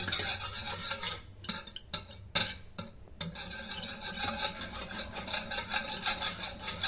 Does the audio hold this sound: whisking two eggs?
yes